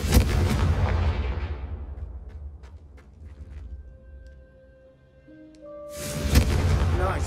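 A Confringo fire spell cast in Hogwarts Legacy bursts out as a loud blast, fades through a quieter stretch with a few sharp crackles and tones, then a second loud burst erupts at the end, with no talk.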